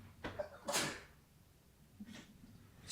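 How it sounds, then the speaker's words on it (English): One quiet, breathy sneeze bursts out near the start, followed by a faint sniff or exhale in otherwise hushed surroundings. "Sneeze attack."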